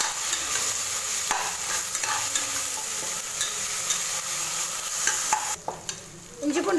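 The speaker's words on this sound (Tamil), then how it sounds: "இஞ்சி பூண்டு பேஸ்ட் பச்சை வாசம் போகிற அளவுக்கு நல்லா வதக்கி விடுறேன்" Ginger garlic paste being sautéed in a pan for ghee rice, giving a steady soft sizzle broken by scraping stirs of a spoon, close and moderately loud with no talking.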